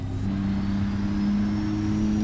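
A voice imitating a heavy-haul truck engine in a driving game, a steady low droning hum held throughout and rising slightly as it goes.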